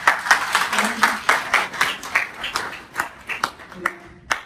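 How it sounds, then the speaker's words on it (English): Scattered, uneven clapping from a small audience at a subconscious-mind hypnosis seminar, individual claps standing out in a loose rhythm, with a voice briefly heard under it. "Give a round of applause."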